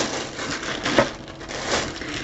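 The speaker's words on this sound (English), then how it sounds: "Right, so a bit of crinkling." Black tissue paper is crinkled and handled up close in a sewing and papercraft setting, giving a continuous dry crackling rustle with small swells and one sharper crunch.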